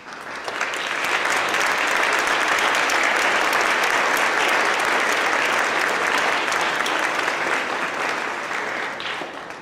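Warm, sustained applause from an audience at a high school academic awards night greets standing Rotary Club members, swelling quickly, holding thick and even, then tapering slightly at the end.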